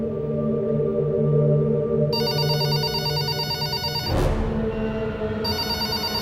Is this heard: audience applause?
no